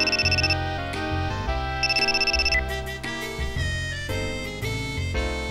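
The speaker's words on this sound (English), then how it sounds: "that means you're getting a call from the theater. Your watch doubles as a phone." A wristwatch that doubles as a phone rings with an incoming call in the video game Sakura Wars, a loud electronic melodic ringtone with repeating bell-like chimes and musical tones running throughout.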